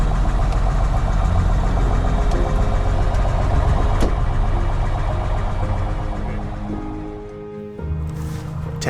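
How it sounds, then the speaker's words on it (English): Small plane's engine turning over and settling into a steady running drone on a cold day in the Alaska backcountry, heard close with no voices, the roar briefly dipping near the end. "We got in and put on our seatbelts and started up the plane."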